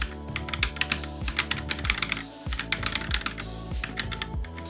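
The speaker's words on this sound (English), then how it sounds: "Okay, normal typing. I can do this. Normal typing." Rapid, steady keystrokes on a Fantech Maxpower MK853 mechanical keyboard, close and crisp, with clicks clustering in quick bursts over background music.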